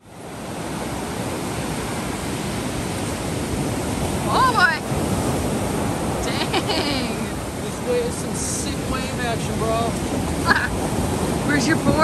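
Ocean surf rolls in continuously at a Delaware state park beach, a steady wash of waves mixed with wind buffeting the microphone, while people talk intermittently over it.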